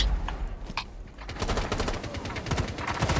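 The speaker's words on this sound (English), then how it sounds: "I'm lighting Valkyrie up" Rapid automatic gunfire in the Rainbow Six Siege video game, dense sustained bursts after a few scattered shots, loud and close with brief speech mixed in.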